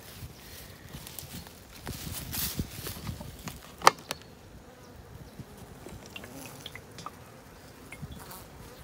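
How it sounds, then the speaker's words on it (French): Honeybees feeding on sugar syrup at a hive on a rainy spring day, giving a soft, continuous buzzing with a few louder clicks and brief close passes, no talking. "Les abeilles sont en train de dévorer le sirop."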